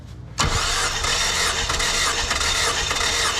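A Dodge SRT-4 engine cranks on the starter during a cylinder compression check, starting abruptly after a brief quiet moment and continuing as a loud, steady churning drone close by with no talk.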